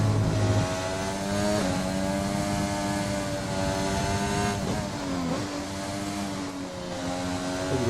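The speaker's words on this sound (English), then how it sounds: "The engine sound is very loud." A Formula 1 car engine in the F1 2020 racing game on the Japan circuit, a loud, sustained high-revving whine with shifting pitch through gear changes, close and continuous without speech.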